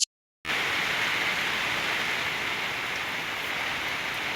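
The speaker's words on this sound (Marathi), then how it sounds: "पाऊस चालूच आहे अजून" Steady rain falls in a dense, even hiss after a brief moment of silence at the start, with no voices.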